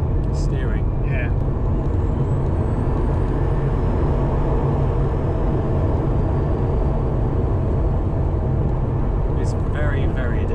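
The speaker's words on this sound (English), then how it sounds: "I think there's enough of a noise of the motor to keep me engaged." A Porsche 911 on the move, its engine a continuous droning rumble blended with road and wind noise from inside the cabin, steady and loud throughout.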